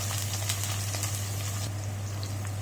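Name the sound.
chopped onion and green chillies sizzling in hot oil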